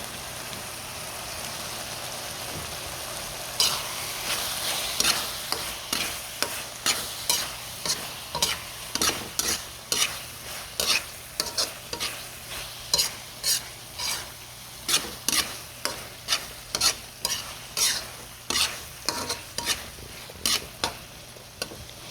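Bacon frying with ground meat in a pan, a constant close sizzle broken by a long run of regular sharp scraping stir strokes about every second, no talking.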